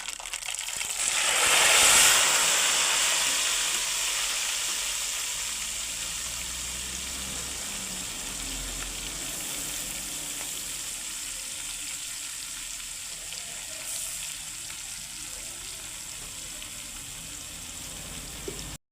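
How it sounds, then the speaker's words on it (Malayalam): Onions for chicken curry sizzle and fry in a hot pan, a steady close hiss with a louder burst near the start as they hit the oil, then settling into continuous even frying with occasional stirring. "ചിക്കൻ കറിക്ക് ആവശ്യമുള്ള സവാള വഴറ്റുകയാണ്"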